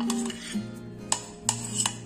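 A spoon works through eggless plum cake batter studded with orange-juice-soaked dried fruit, producing soft, close scraping and a few brighter taps against the bowl over about two seconds, with a low background hum.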